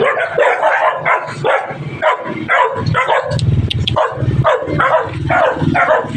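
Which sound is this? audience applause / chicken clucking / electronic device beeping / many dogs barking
many dogs barking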